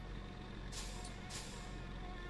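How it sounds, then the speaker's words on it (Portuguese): A truck's air brake in the driving game My Summer Car releases two sharp hissing bursts, close together, over a steady low engine drone. "você puxa o freio de mão do caminhão"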